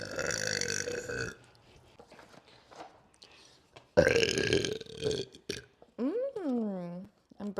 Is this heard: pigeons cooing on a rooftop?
no